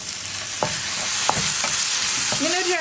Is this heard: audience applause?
no